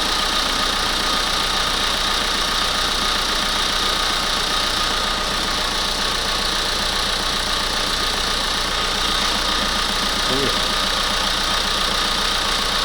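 The 1.5 dCi diesel engine of a Renault Kangoo with a faulty injector idles close up in a steady, loud, uneven clatter that holds without change throughout, with no talk.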